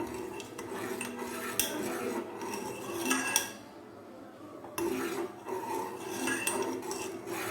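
Butter simmering into ghee is stirred in a pan with a spoon, giving continuous scraping and rubbing with scattered metallic clinks, pausing briefly before the stirring resumes.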